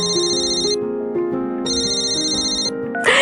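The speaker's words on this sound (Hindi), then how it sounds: "तभी उसकी दादी का फोन आया।" A mobile phone ringtone plays a melodic tune in two bursts separated by a short pause, loud and close, with no talking over it.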